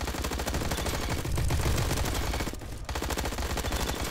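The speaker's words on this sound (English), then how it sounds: "Oh boy, we got Tommy gun. 75 rounds worth of it." Tommy gun firing in a video game, a loud continuous burst of rapid automatic shots with one brief pause, then the fire resumes without voices.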